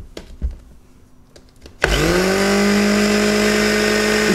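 A Klarstein Juicinho Nero or Sunjas mini blender switches on after a quiet moment and runs loud and steady, its motor whine holding constant to the end with no talk.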